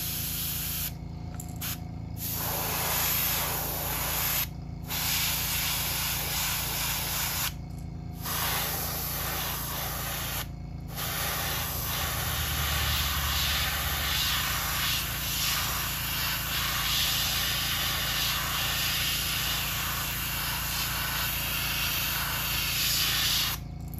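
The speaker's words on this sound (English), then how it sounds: "Whenever you're spraying yellow," Steady hiss of spray paint laying yellow onto a custom crankbait fishing lure, running almost continuously with a few short pauses between bursts, close and loud.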